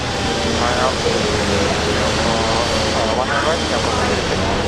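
A King Air 360 aircraft at Brisbane airport gives a loud, steady engine drone that fills the whole stretch, with voices talking faintly over it.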